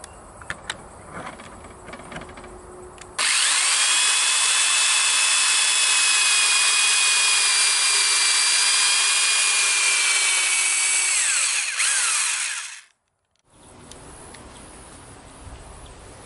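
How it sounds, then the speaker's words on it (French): A power drill bores dowel holes about 13 to 14 mm deep into a wooden board for van furniture. After quieter handling noises, one loud continuous whine runs for roughly nine seconds, winds down and stops, then faint rustling follows. "On va faire les trous."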